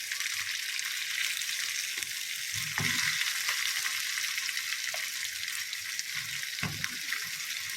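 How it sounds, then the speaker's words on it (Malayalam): Pieces of snakehead fish (varal) fry in a pan with a steady, close sizzle. A few brief stirring knocks and splashes break through the crackle, and no one speaks. "ഇനി ഇതിനെ തുറന്ന് വെച്ച് നമുക്ക് ഫ്രൈ ആക്കി എടുക്കാം"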